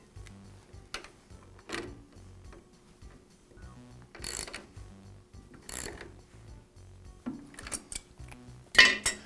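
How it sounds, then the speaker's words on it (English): A nut is tightened with pliers on the feed shaft of a Jet drill press, giving scattered metallic clicks, ratcheting ticks and small scrapes at close range, mostly quiet with a few sharper bursts. "As I tighten the outer nut up, I'll need to hold the inner nut so it doesn't rotate."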